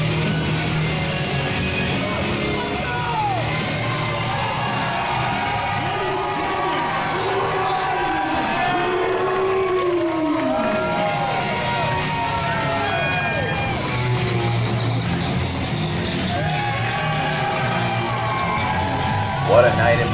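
A crowd at a live wrestling event in the Superstars of the Ring show, a loud sustained roar of cheering and whooping with excited shouts, while a commentator talks over it.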